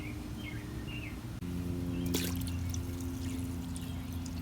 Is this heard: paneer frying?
no